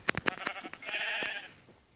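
Minecraft sheep bleating in a video game, a few quick close bleats followed by a longer wavering bleat, loud and alone with no talk.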